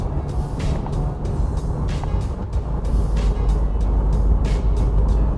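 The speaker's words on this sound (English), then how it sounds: "So you could engine brake" Subaru Crosstrek engine braking while rolling along a road, a steady low engine and road rumble with tyre noise, loud and close inside the cabin, with repeated brief bursts of passing noise.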